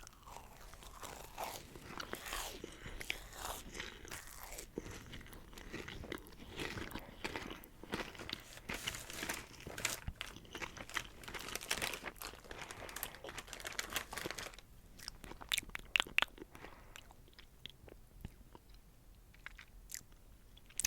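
Marshmallow Peeps Easter candy being bitten and chewed close up, with soft wet crunching and crinkly packaging handling in steady bursts, growing sparser and more separated toward the end, with no talking.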